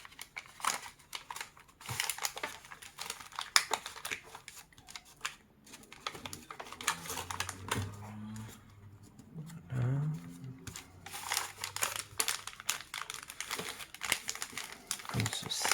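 Dense, continuous crinkling and crisp rustles of paper being reverse-folded into an origami cuttlefish, close up and steady, with a voice talking faintly partway through.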